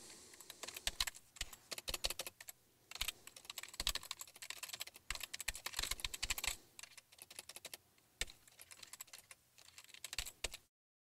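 Fingers type a SQL query on a computer keyboard in quick irregular bursts of close, light key clicks with short pauses between runs, no one speaking.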